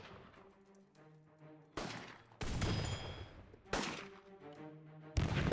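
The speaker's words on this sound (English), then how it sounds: "The cannon might be older, but they're still relatively effective against an old skyship like that." Aging fort cannons fire on an old wooden skyship in the strategy game Airships: Conquer the Skies, loud booming volleys landing in several separate bursts with a lingering rumble between them.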